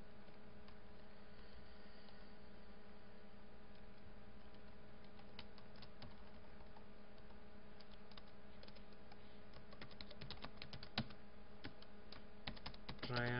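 Computer keyboard typing C++ code, with scattered quiet key clicks over a steady electrical hum, growing into quicker bursts of keystrokes toward the end, faint and close.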